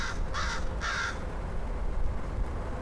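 Three close, loud caws from a crow sitting on a post come in a quick row, then only quiet outdoor ambience remains.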